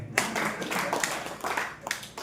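A comedy show audience of professors and students claps in scattered, uneven bursts, close and moderately loud, with individual hand strikes standing out.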